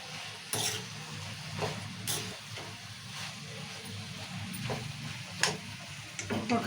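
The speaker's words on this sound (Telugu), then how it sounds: "టమాటాలు కూడా మంచిగా ఇట్లా నూనెలో మగ్గించుకోవాలి." Tomatoes and green chillies cook in hot oil for a chutney while a utensil stirs the pan, with soft sizzling beneath several sharp scrapes and clinks against the metal at irregular intervals.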